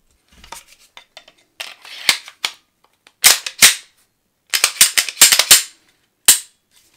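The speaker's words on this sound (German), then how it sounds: "So, wir können die Waffe jetzt wieder zusammensetzen." Metal parts of a CZ P10 pistol clicked and snapped back together after its front sight is swapped, a series of sharp close clacks and slide clicks in uneven bursts, with no talking.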